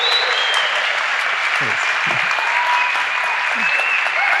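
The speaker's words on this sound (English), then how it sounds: "take another round of applause, please" Steady audience applause for a speaker at a creativity and climate movement event in Amsterdam, a close, even wash of clapping throughout, with a man's brief thanks spoken over it.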